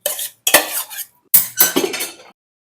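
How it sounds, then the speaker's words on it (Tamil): A heavy ladle mashes cooked ingredients in a pot for akkaravadisal, a sweet rice dish, giving two bursts of scraping, clanking metal strokes separated by a short pause, close and fairly loud with no talk. "இந்த கரண்டியாலே கொஞ்சம் மசிச்சுடுறேன்"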